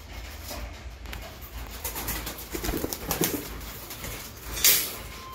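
Pet pigeons in a loft waiting to be fed, soft low cooing close by with faint wing shuffles and rustling, no talk, a sharper flutter near the end.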